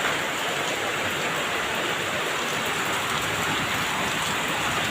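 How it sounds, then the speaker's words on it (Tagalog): Heavy, unbroken rain pours outside a house on a November day, heard from the doorway, with flooding nearby: a loud, dense, steady hiss and patter that fills the whole stretch without any talk. "Tuloy-tuloy po yung ulan."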